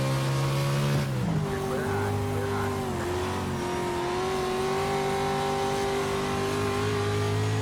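A race car in a racing video game accelerating hard while overtaking for sixth place, the engine note dropping with a gear change then climbing steadily in a loud, sustained whine that continues throughout.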